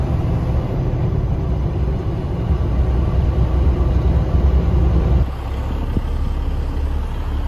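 A semi truck cruises along a road at around 90 km/h, heard from inside as a steady low engine and road rumble that dips briefly before settling back to the same drone.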